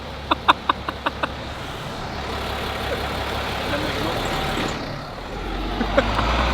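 A truck drives past on a street in Dawson under steady engine rumble and broadband road noise, then slows and stops, with a burst of air-brake hiss near the end; a few short beeps sound at the start.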